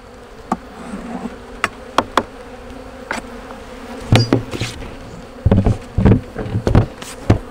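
Honeybees buzzing in and around a backyard beehive that was kept shut in by rain and is starving: a close, steady insect drone broken by sharp knocks and clicks from handling the hive, with no voices.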